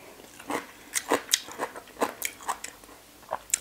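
Close crunchy bites and chewing on som tam papaya salad with ginger and raw salmon: a run of crisp, uneven crunches, loud and near, with no talking.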